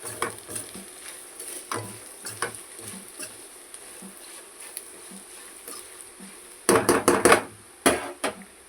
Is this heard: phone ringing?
no